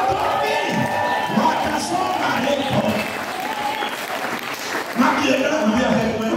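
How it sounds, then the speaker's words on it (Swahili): A church congregation at Deliverance Church claps during a service, producing sustained, dense applause throughout, with a voice calling out over the clapping. "shangilia Bwana kwa makofi"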